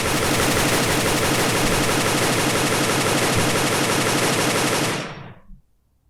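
Rapid automatic gunfire from a custom weapon built with FE Gun Kit in a Roblox-style video game, a dense unbroken burst of shots lasting about five seconds at full loudness before stopping with a short tail.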